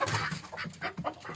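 Free-range country chickens cluck near a coop in the early morning, a run of short, uneven clucks close by with no talking.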